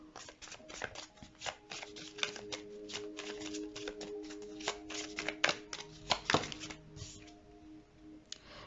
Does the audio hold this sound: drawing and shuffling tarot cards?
yes